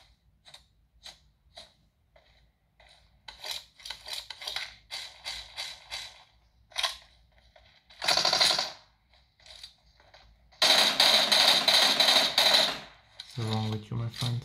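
Sharp gunshots and bursts of automatic fire in the PUBG Mobile game, a scatter of single cracks, then a dense sustained burst and a final volley, fairly close and loud.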